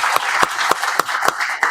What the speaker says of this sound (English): Round of applause for Eileen.